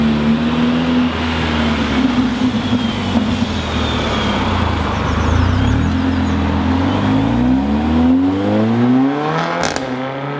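A 410hp Mercedes A45 AMG engine revving: a loud, continuous growl whose pitch climbs and falls through repeated rises, ending in a brief sharp crackle.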